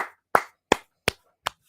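Four or five sharp, isolated hand claps ring out close and loud at a steady, unhurried pace, each snapping off into silence.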